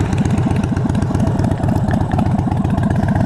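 A 2013 Harley-Davidson Dyna Super Glide, basically stock with an S&S Cycle air cleaner, idles up close with a loud, lumpy, shaking thump that repeats rapidly and steadily throughout.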